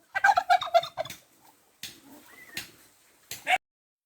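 A turkey gobbles in a quick rattling burst, followed by a couple of shorter calls and a soft higher note, fairly close with quiet gaps between.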